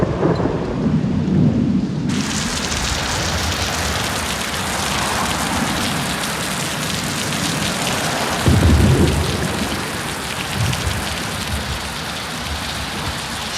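Heavy steady rain pours down with a constant dense hiss, while low rumbling thunder rolls underneath and swells into a deeper boom partway through, with no voices.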